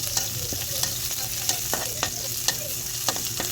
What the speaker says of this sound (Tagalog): wait lang until golden brown yung bawang, tsaka yung sibuyas na maging lalabas yung aroma niya